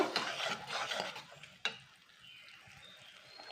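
Thick tamarind chutney stirred in a pan with a spoon, heard as close, raspy scraping and sticky rubbing strokes in irregular bursts, with one sharp scrape, then a quieter low simmer hiss, no talk.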